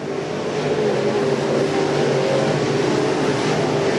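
Race cars on a dirt track in a PCRA Pro Crate race, a continuous droning roar of engines from several cars passing, loud and steady with no voices.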